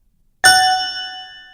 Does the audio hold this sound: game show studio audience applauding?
no